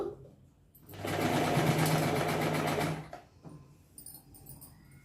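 A sewing machine stitches piping onto cloth, starting after a quiet moment and running in one loud, steady burst for about two seconds before stopping, followed by faint handling noises.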